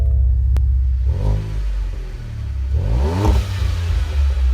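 A 2019 Ford Edge ST with a tuned 2.7-litre twin-turbo V6 and artificially piped-in engine sound revs up twice inside the cabin, each rise swelling then easing back to a steady low drone.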